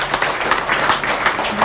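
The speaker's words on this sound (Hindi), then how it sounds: "एस्पोर्लिना के नाम से जोरदार ताली होना चाहिए" Loud, steady applause from a crowd at a DXN product meeting in Patna, with dense clapping filling the whole stretch and no clear pauses.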